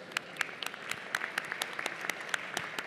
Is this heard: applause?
yes